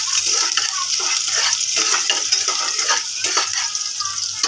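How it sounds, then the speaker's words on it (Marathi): Onion frying in a pan for a Malvani-style dish, a continuous bright hiss and crackle of oil, close and steady throughout with faint utensil movement and no talk. "कांदा टाकते. कांदा जरा लाल झाला."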